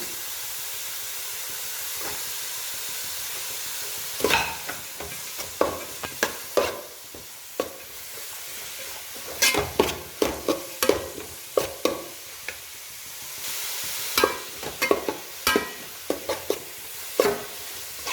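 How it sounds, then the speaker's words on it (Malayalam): Three long-sliced onions frying in a pan for Kerala mutton fry, with a soft steady sizzle and repeated sharp scraping and stirring clatters of a spoon against the pan, close up with no voices. "മൂന്ന് സവാള നീളത്തിൽ അരിഞ്ഞത് ഇട്ട് കൊടുക്കുന്നു."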